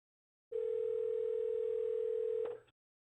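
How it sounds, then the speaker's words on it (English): A telephone in a creepy story gives a single steady electronic tone that runs for about two seconds, loud and isolated, then cuts off with a brief click at the end. "And then the phone rang"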